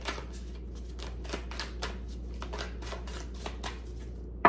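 Tarot cards being shuffled in quick, repeated riffles and snaps, close and fairly quiet over a low steady hum.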